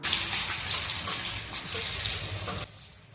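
Onion frying in hot oil in a kadhai, a dense, even sizzle that runs loud and steady before dropping off sharply near the end, with no speech.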